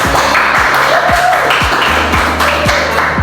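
Rhythmic hand clapping in an elementary classroom, with sharp claps landing about twice per second over a low background hubbub.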